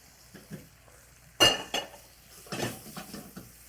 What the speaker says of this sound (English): We're going to mix it with a spatula because I'm not sure how much liquid I have.